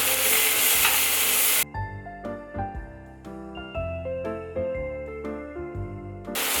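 Bean sprouts with dried tofu, garlic and green onion stir-fried in a wok: a burst of loud sizzling gives way to a series of ringing metallic clinks and scrapes from the spatula against the pan.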